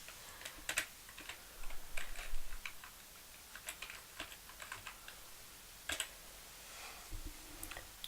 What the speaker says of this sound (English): Next, we'll type in a display name.